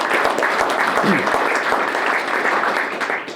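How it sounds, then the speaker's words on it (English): An audience at a Host University event in Toronto applauds after a story is shared, a broad wash of clapping, steady and fairly loud, easing slightly near the end. "that guy deserves really a round of applause for doing something like that, right?"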